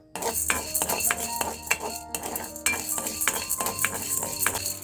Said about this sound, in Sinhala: ඉතින් මම පරිප්පු ටික ඉස්සෙල්ලාම බෙද ගන්නවා